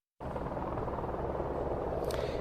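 A news helicopter hovers over a search with divers at a pond in Joliet Township, its rotor a loud, steady whirring drone that holds continuously without talk.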